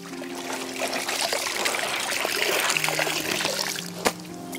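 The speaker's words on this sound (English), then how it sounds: "give all of this a bit of a rinse down" Water splashes and trickles over muddy camping gear during a rinse after a night of heavy rain, a close continuous spatter with a small knock near the end.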